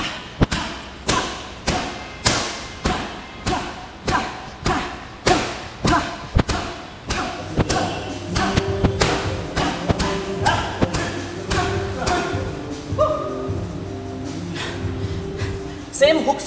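Punches landing on a punching bag in a boxing power workout, a steady series of sharp thuds about every half second, then faster, busier hits mixed with grunting breaths.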